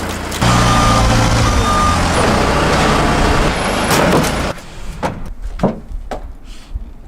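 A forklift rated for 6,000 pounds lifts a whole car, heard as a loud, steady engine drone with a high reversing beep, then a quieter stretch of clunks and scraping knocks.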